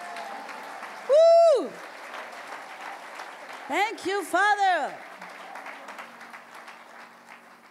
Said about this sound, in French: Est-ce que quelqu'un peut applaudir le Seigneur Jésus?